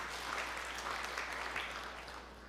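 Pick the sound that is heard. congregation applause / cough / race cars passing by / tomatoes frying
congregation applause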